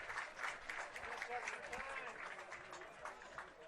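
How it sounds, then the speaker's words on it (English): A soccer crowd at a Vermont Green FC home opener against Black Rock FC applauds a shot on target, giving steady, moderately distant clapping and cheering that holds through the moment with a dense, broadband wash. "The crowd appreciates the shot on target at the least."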